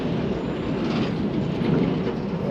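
A cattle road train passes on a dusty outback road, a loud continuous rumbling roar of engine and trailers rolling close by.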